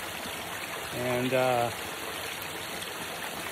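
A small trickle of water runs down over rocks in a little valley along the upper Skookum Creek in Washington, a soft, even, close rushing that continues steadily while someone speaks briefly.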